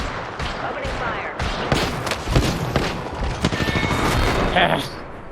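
Dense video game gunfire, a run of loud overlapping shots and booms close up, with game voices over the shooting.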